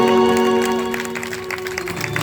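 An audience at a devotional Radhe gathering claps steadily together for a couple of seconds, the clapping blended with sustained droning music in the background.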